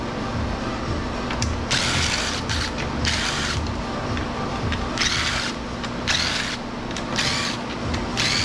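A socket wrench ratchets while scrap is taken apart, giving repeated bursts of rapid clicking in an uneven rhythm over steady background noise. It sounds close and fairly loud, with no talking.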